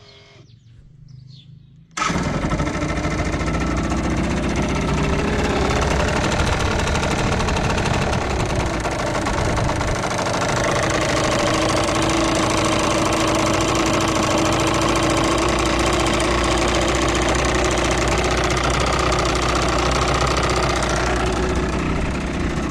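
A Yamaha TDR 125 motorcycle engine fires up after a brief quiet moment, then settles into a loud, steady, rattling idle recorded close up.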